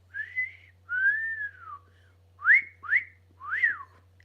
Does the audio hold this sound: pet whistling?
yes